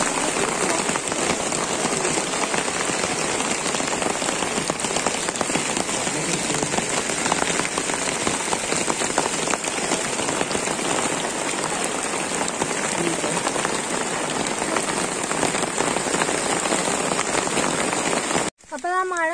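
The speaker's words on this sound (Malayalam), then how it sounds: "കാരണം നല്ല മഴയായി പോയി" Heavy rain pours steadily over open ground at Phantom Rock in Ambalavayal, Wayanad, a dense continuous hiss with a brief voice near the end.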